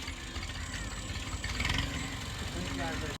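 A tractor engine runs steadily at a medium idle throughout on a farm, with a sharp knock or click near the end and faint background activity.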